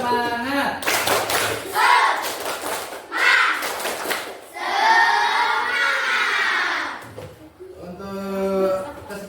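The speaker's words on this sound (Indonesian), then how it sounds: "kita tepuk semangat" A class of schoolchildren performs a rhythmic spirit clap together, bursts of group clapping and chanted voices alternating in a lively pattern, with children's voices prominent throughout.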